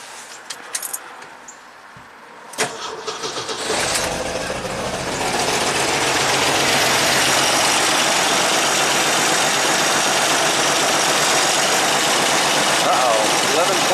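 An '85 Jeep CJ-7 Renegade with a fault that stops it shutting off with the key: a few clicks, then the engine cranks and catches into a loud, steady, close idle that holds to the end.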